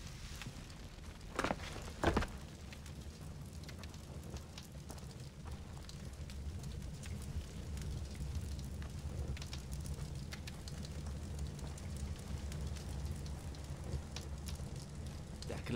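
House burning in Far Cry 3, a faint, steady crackle and low rumble of fire with a couple of sharp pops early on, continuing under quiet game ambience.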